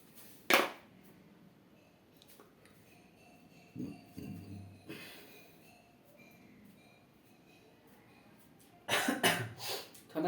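A few harsh coughs from someone who is ill come in short bursts, one early and a cluster near the end, close by in an otherwise quiet room.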